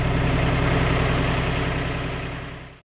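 A tractor engine idles with a steady low rumble while hoisting the engine out of a 1949 Chevy 3100 truck, holding constant before fading out at the end.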